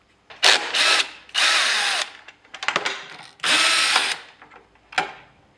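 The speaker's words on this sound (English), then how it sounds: "We need to take out this bottom black screws. And then this silver screws." A power driver backs screws out of a Yamaha Tenere 700 in several whirring bursts of about a second each, with ratcheting clicks between them, loud and close, with no voices.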